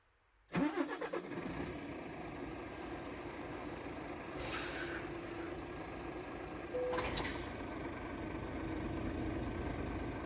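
A Scania S500 truck engine in Euro Truck Simulator 2 roars to life and settles into a steady, deep idle with a low rumble, broken by two brief hissing bursts like air brakes.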